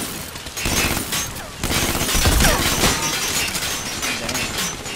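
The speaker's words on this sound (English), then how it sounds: "I'm being shot at by a mech" A mech opens fire in Metal Gear Online, a loud, dense fusillade of bursts with shattering, breaking impacts that swells and holds across the stretch.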